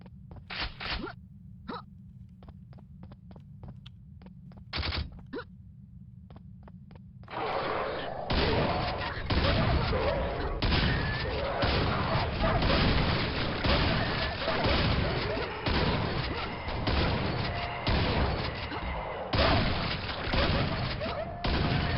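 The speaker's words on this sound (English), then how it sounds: "Shotgun is absolute monster in this mod." Shotgun fire in a Quake mod: sharp blasts and booms, sparse at first, then a dense, louder stretch of continuous shooting and impacts.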